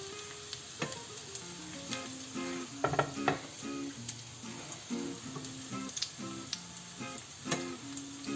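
Hash browns frying in hot oil in a pan give a continuous crackling sizzle, with sharp clinks and taps of a utensil lifting them out, close and fairly quiet.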